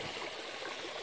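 Pond water pours down a two-step cascade driven by a powerful pump, making a close, steady rushing and splashing with no pauses.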